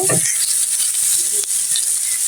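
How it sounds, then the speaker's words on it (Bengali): Onions fry in a pan with a loud, close, steady bright sizzle and a few soft stirring touches near the start. "এদিকে পেঁয়াজ ভাজা চলছে"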